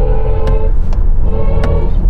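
A BMW electric car in expressive drive mode plays its synthetic drive sound, a loud, sustained tonal hum with layered harmonics and a few brief clicks over it.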